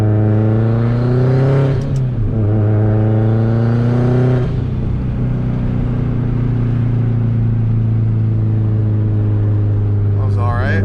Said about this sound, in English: See if we can hear that turbo. It's 15 pounds of boost right there.